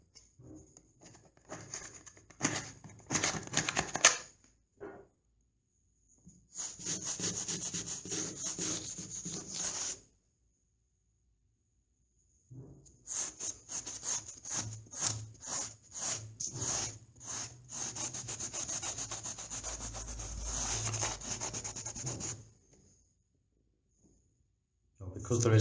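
A scraper pulls peeling, cracked paint off plaster on a ceiling and wall in long rasping, gritty strokes. Two extended bursts of scraping are broken by stretches of silence, and the sound is close and fairly loud.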